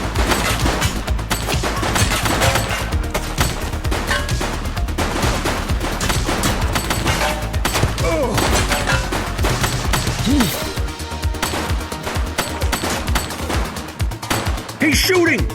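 Enemy gunfire in the police game The Precinct, dense and continuous with rapid shots and bursts over a steady low rumble, loud throughout with shouted voices and game sounds mixed in.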